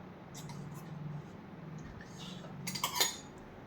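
A spoon scrapes and clinks against a bowl while stirring chili powder, coriander-cumin powder, salt and ginger-garlic paste for Nagpuri gola bhaat. The contact is soft and scattered at first, then a brief cluster of brighter clinks comes near the end over a low background hum.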